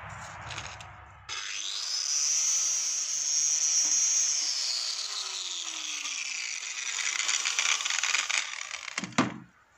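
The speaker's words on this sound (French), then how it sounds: "je vais utiliser ça, petite brosse métallique qu'on met sur la meuleuse d'angle" Wire brush on an angle grinder stripping flaking paint from shutter hinges, a loud sustained whirring scrub that spins up sharply, varies in pitch under load, then winds down.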